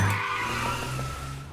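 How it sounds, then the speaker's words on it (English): Car chase effects built from several layers: engines roaring, tyres squealing and skidding on the road as cars swerve around corners. The sound stays loud and sustained, with a high screech riding over a low engine drone and no speech. "Separate sounds for the engine, and the tyres on the road, and for when the cars swerve around 2 corners"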